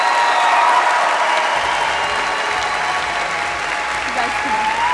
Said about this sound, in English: Can we give these two a round of applause to show them how much we appreciate them?